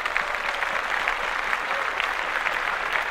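Steady applause fills a podcast studio, a dense even wash of clapping that holds at moderate loudness throughout, with no talking over it.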